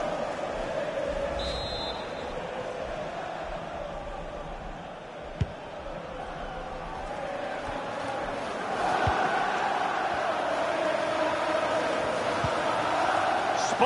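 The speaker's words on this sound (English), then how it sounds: "the noise is deafening, the clock is ticking, the crowd are expectant" A stadium crowd roars in a FIFA 20 Carabao Cup quarter-final in manager mode, a dense, continuous wash of noise that swells louder in the second half, with one sharp knock partway through.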